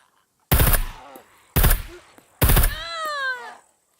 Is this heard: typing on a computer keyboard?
no